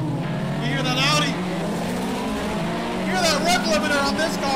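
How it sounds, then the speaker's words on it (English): An Audi racing car engine in the video game Project Cars revs hard and bounces repeatedly against its rev limiter, a loud wavering buzz with a voice talking over it. "That rev limiter on this car just sounds insane."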